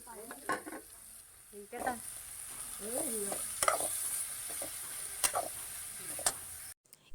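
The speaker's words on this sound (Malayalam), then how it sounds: "ആദ്യം സവാളയും പച്ചമുളകും കൂടി ഇട്ടിട്ട് നന്നായിട്ടൊന്ന് വഴറ്റിയെടുക്കണം" Onion, green chili, capsicum, carrot and beans sauté in a pan, a soft steady sizzle broken by repeated sharp scrapes and knocks of a spoon as the vegetables are stirred close by.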